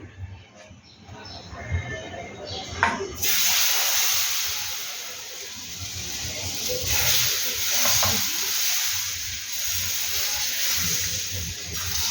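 Semolina (rava) chilla frying in a pan: a steady sizzling hiss that swells after a few seconds and holds close and even, with faint stirring and scraping sounds over it.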